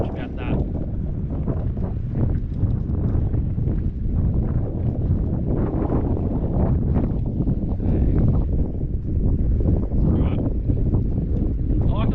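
Wind gusting across a fishing boat on open water, a steady rushing roar buffeting the microphone, with hull and water noise underneath and no clear talk.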